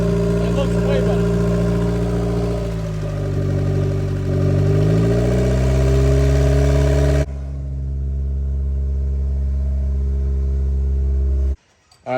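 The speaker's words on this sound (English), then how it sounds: "The motor appears to be running perfectly, actually fantastically." A Honda D16 car engine runs loud and steady close by, climbing through a few revs before settling back into a smooth idle, then cutting off near the end.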